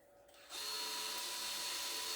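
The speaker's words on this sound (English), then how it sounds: "I'm gonna drill the hole." A power drill whirs up after a brief pause and runs steadily at high speed, close and loud, drilling a hole in a moss piano centerpiece, with no talking.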